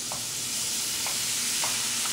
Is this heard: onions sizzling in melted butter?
yes